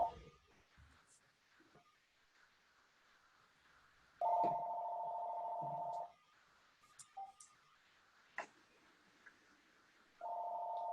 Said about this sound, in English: I don't know how to silence my house phone. I'm just going to let it ring.